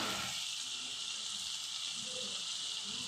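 Chicken fries in a pan with a steady, close sizzle that crackles without pause all the way through. No one speaks.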